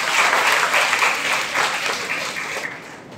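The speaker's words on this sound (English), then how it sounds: "Let's have a good round of applause." An audience at an inter-school debate competition breaks into sustained, dense applause, a steady wash of many hands clapping that fades slightly toward the end, with little talk.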